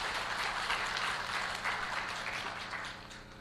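Church congregation applauding the choir after a Sunday morning worship service, a dense, steady wash of clapping filling the room for several seconds and slowly fading toward the end.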